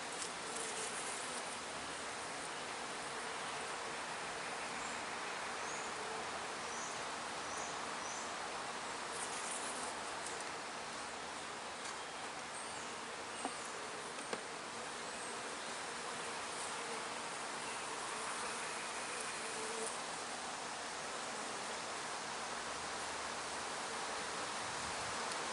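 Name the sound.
bees buzzing around hive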